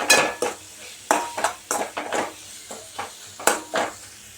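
Spoon scraping and clinking against a cooking pan in quick irregular strokes as spices are stirred into hot oil, close and clear with a light sizzle underneath.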